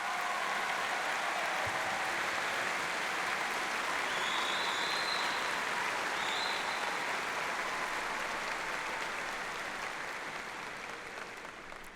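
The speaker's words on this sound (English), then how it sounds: "Can you please give them a round of applause?" Dense, sustained applause from a large audience at a university commencement ceremony, a steady roar of clapping that holds evenly and then begins to thin toward the end.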